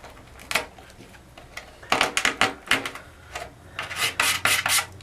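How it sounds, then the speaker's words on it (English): A razor knife scrapes and cuts out loose, crushed fiberglass on a damaged surfboard, a series of close, rasping strokes in irregular bursts with brief pauses between them. "Start by cutting out any of the loose fiberglass that was crushed in."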